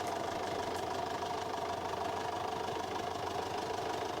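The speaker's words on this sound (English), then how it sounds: "This tractor starts at the second turn of the engine" A David Brown 990 tractor engine idles steadily throughout with a rough, knocking chug, moderately loud and close, with no pauses.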